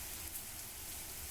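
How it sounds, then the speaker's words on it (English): Steady hiss of heavy rain in a video game, a dense, even wash of falling drops with no breaks, fairly quiet and with no voices over it. "I heard the piercing sound of rain."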